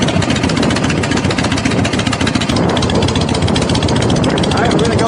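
A Harley-Davidson Shovelhead motorcycle engine idles loud and close just after starting, a steady rapid chugging pulse that runs unbroken, with a voice over it.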